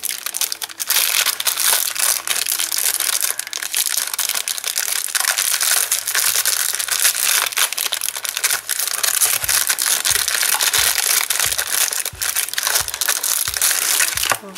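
Plastic packaging around blocks of polymer clay crinkles and crackles nonstop under handling, loud and close, ending in a series of sharp crunchy snaps.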